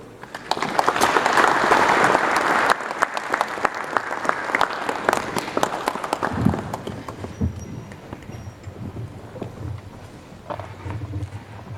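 Audience applause welcoming Vice President Joyce Mujuru at an official opening event, a dense burst of clapping from a large crowd that thins and fades over several seconds, with a voice briefly speaking at the end.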